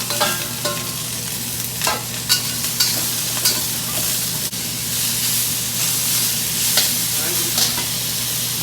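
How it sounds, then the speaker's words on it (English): Vegetables with minced ginger and garlic stir-frying in a wok, a loud continuous sizzle and hiss with clattering tosses and scrapes every second or so over a low steady hum, close by with no talking. "go ahead and put our veggies in"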